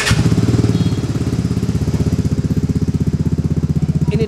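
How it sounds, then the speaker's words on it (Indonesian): A Vespa Sprint scooter engine fitted with a Polini exhaust runs close and loud, its two-stroke idle a rapid, evenly pulsing putter that holds steady for several seconds. "Kita dengar aja bunyi dari knalpot Polini."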